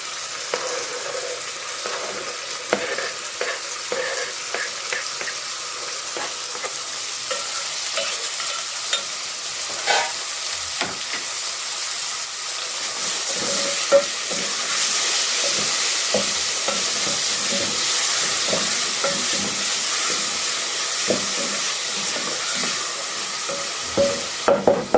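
Tomatoes fry and get stirred in a pan for githeri, a Kenyan meal: a loud, continuous sizzle that swells partway through, broken by frequent scraping and clinking stirs.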